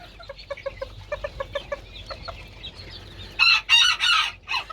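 Roosters and hens cluck in short, rhythmic bursts, then break into louder, harsher squawking calls near the end. The birds are close, with no talk over them.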